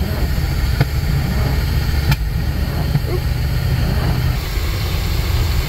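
A 1990 Chevy G30 Shasta van's engine runs smoothly and steadily, a loud low rumble with a few faint clicks over it and no speech.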